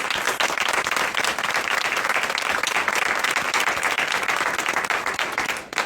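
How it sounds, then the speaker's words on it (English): Audience applause for a panel at an AI startups and venture capital event, dense continuous clapping from a full room at an even, strong level, fading briefly right at the end. "can we do a big round of applause for our amazing panelists?"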